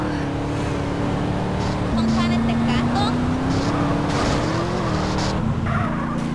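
Car engine in GTA San Andreas hums continuously with shifting pitch and tire squeals, while someone talks over the game sound.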